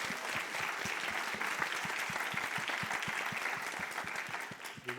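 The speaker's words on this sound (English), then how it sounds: "let's give them a round of applause" Sustained applause from an audience at a startup showcase event, steady dense clapping for the full stretch without a break, fairly close and even in loudness, tapering slightly at the end.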